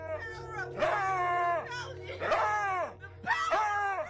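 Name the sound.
dog barking at a crucifix in a viral clip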